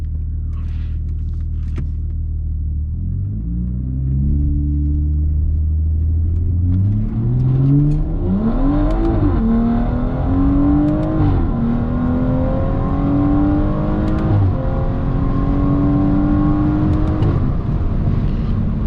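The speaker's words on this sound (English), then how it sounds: "I'm gonna go ahead and try to do a soft launch here, see how the car feels." A BMW F30 340i revs up loudly in a soft launch and climbs through several gear shifts, a steady rising roar building under acceleration with no talking.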